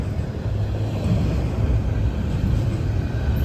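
A Norfolk Southern train rumbles past close by with a steady low roar and faint wheel rattle, holding a constant level for a few seconds with no talking.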